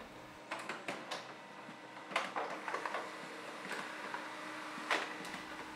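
A Canon MF112 laser printer printing a test page, quiet and close, with soft mechanical clicks, paper-feed taps and a low whir spread unevenly over a few seconds.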